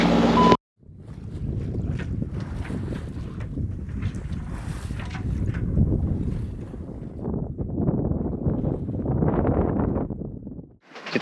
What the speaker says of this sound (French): Il y a un tout petit peu de vent